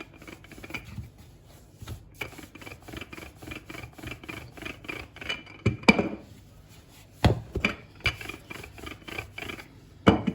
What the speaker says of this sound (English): And with a rolling pin, I'm just gonna roll it to a 1-inch thickness.